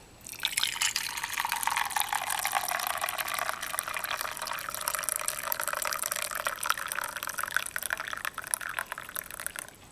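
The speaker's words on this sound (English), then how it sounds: "So we pour in the tea." Steady pouring of jasmine tea with a bright splashing hiss, continuous and close, running for several seconds without pause.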